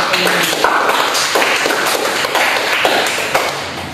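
Applause from a school class during a lesson, a dense run of fast hand claps that rises and falls across the clip at a steady, fairly loud level with no talking.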